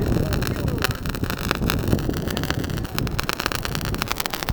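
Strong wind gusting outdoors while sparklers burn fast, roaring and buffeting loudly against the microphone throughout with uneven surges.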